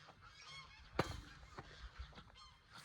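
Geese honk repeatedly, one loud close call standing out among scattered quieter honks, with outdoor background noise.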